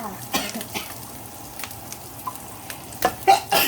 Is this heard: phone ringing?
no